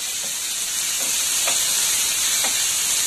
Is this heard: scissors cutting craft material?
no